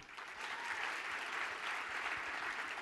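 Steady, moderate applause from a crowd, a continuous patter of many hands clapping without any voices.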